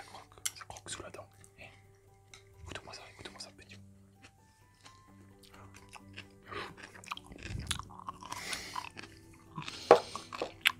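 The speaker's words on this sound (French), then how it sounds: "Ça croque sous la dent." Close, crisp crunching bites and chewing of spicy Korean fried chicken, with irregular bursts of crackle over a quiet background and soft whispered talk between the bites.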